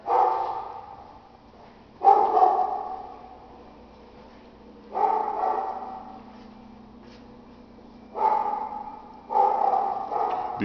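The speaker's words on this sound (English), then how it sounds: "Beware of the barking dog next door that's interfering with my video." A neighbouring dog next door barks in separate bursts, about five clusters of barks spaced a few seconds apart, moderately loud and slightly distant, heard indoors in a house's living room with no talking.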